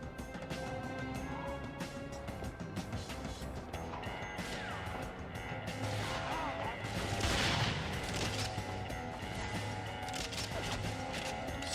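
Gunfire rattles through a firefight in the video game 007 Nightfire, dense and continuous over a steady game soundtrack, with a louder burst of impacts midway.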